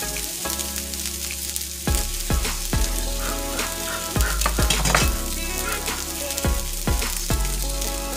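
Korean short rib noodles sizzle loudly on a hot griddle under a constant frying hiss, broken by repeated scraping and tossing strokes of a spatula spreading and gathering them, close up with no talk.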